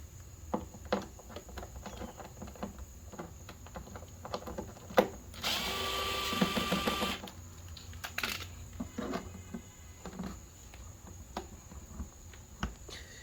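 Power drill undoing bolts on an inverter generator cover, one loud buzzing run of about two seconds and a shorter burst after it, with light clicks and handling noise around them in a quiet room.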